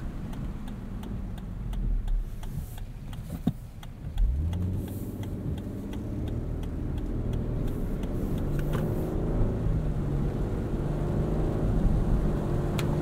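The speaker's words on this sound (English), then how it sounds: "It is a little bit strange hearing a V6 in the background." Inside a 2022 Lexus LX 600 Ultra Luxury on the road, its V6 engine hums as a steady low drone with rising and falling pitch over tire and road rumble, plus faint ticking clicks.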